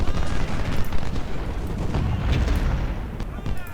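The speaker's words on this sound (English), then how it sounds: "now open up on Hayes artillery" Heavy Civil War artillery fire from the strategy game Ultimate General: Civil War, a dense continuous rumble of booming cannon blasts rolling over one another throughout, loud and sustained with a faint voice mixed underneath.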